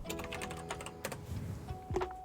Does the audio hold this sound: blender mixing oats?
no